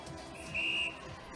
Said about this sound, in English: And that is our whistle.